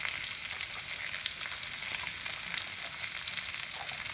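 Sliced green onions sizzle in a hot pan, a steady close crackle of frying that holds evenly throughout with no voices.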